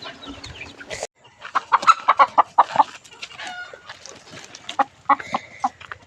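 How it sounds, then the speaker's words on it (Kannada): Village chickens and a rooster call out with a run of sharp, rhythmic clucks and short cries nearby, set against quiet outdoor background during a Sankranti festival morning. "ಯಾಕೋ ಹುಂಜ ಹೊಡ್ಕೊತಾ ಇರ್ತಾರೆ ನೋಡ್ತೀನಿ ನಾನು"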